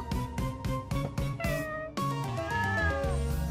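Repeated cat meows from a small kitty being coaxed to climb down, a steady run of close, loud calls, some drawn out and rising, with no talking.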